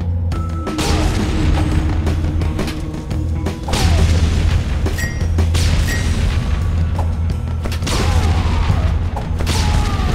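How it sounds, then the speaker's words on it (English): Repeated booming grenade explosions from the DeathSpank: Thongs of Virtue video game, several blasts in quick succession over a dense, loud layer of game effects and mechanical clatter, with no talking. "Let's use some grenades."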